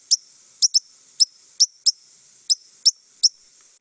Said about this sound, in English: And then this is a ruby-crowned king.